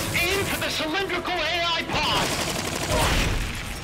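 Machine gun fire in the video game Metal Gear Solid Peace Walker, with sustained rapid bursts rattling loudly and continuously, layered with dense battle noise.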